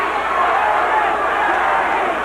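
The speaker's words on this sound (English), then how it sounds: "They all chanting Larry," Boxing crowd at the Michael Spinks vs Larry Holmes IBF heavyweight championship rematch, chanting Holmes's name as a dense, steady roar that fills the arena without a break.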